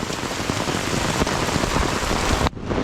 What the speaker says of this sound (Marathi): जो पाऊस चालू झाला आहे ना थांबायचं नाव नाही घेत